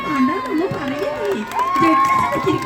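Festival audience at Kottappuram Fest clapping and cheering in a sustained, dense crowd roar, with loud voices and shouts mixed throughout.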